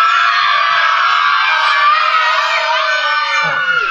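A crowd of children at an adventure farm shouts together loudly and continuously, a sustained wall of high, excited voices that only begins to fade at the very end.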